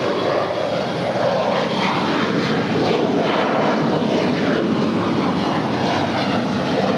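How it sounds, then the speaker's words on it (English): An Embraer E175 LR jet departs LAX with a loud, sustained engine roar, a broad rushing drone holding steady throughout with no voices. "3306 departing to Austin. It's a 4-year-old Embraer E175 LR."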